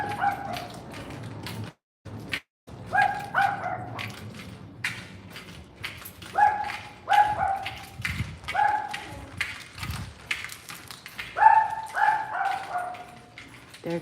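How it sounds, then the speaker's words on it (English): Dog barking outdoors on a street, a run of sharp barks in bursts near the microphone, alternating with quieter gaps and some background rustle. "There goes a dog."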